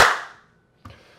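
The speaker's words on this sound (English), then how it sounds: "We're so good at clapping." A single sharp clap of hands, bright and close, ringing briefly into the room, followed a moment later by a softer second clap.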